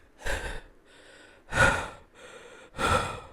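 A voice imitates hard breathing with three loud, close, breathy gasps separated by quieter rasping inhales.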